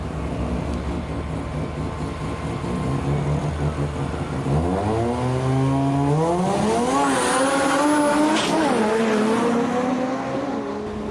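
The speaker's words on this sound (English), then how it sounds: "The old Brap there, a little bit sideways as it takes itself off, crabbing down the track with the power on it." A drag racing car launches down the strip sideways with power on, its engine roaring loud and steady as revs climb in rising sweeps, with tire squeal near the end.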